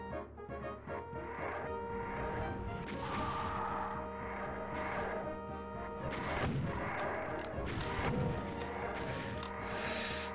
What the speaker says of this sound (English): watch out for those missiles